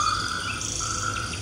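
Mole cricket and scorpion cricket chirping together at night, a steady dense trill with higher chirps layered over it, close and constant with no talking.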